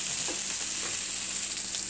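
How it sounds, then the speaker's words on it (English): A pork chop frying in a pan, a loud, steady close sizzle with faint crackles throughout. "I'm cooking pork chop."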